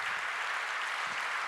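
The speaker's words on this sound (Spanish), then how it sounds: "Voy a pedir un aplauso para Luc Boltanski" A seated audience at a 2018 public conversation in Valparaíso gives Luc Boltanski steady, even applause, heard as a brief wash of many hands clapping at moderate distance.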